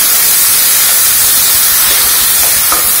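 Mushrooms go into a hot pan of sautéed onion, tomato and spices for a Kerala-style mushroom curry, producing a loud, constant hiss and sizzle that fills the whole clip without any talking.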